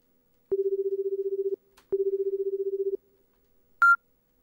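A telephone in a horror video game calls the supervisor: two long, steady, buzzing ring tones about a second each, separated by a short gap, then a brief higher beep, all clear against silence.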